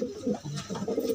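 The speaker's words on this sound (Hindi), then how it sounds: "और दिखाइए कबूतर" Fancy pigeons kept for sale coo in soft, throaty repeated phrases, close and steady across the short stretch, with no talking.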